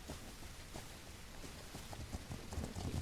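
Steady rain pours through a storm in the video game Legend of Khiimori, a dense, even hiss with soft patters and low rumbles, slightly louder toward the end, with no voices.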